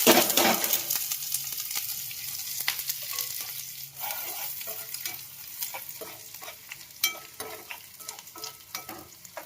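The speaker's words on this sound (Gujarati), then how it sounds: "આપણે દાળ ફ્રાયનો તડકો મારી દઈએ" Dal fry tempering of ghee, cumin, chillies and chopped onion crackles and sizzles in a pan, loud at first and then steady, with frequent quick spatula clinks and scrapes throughout.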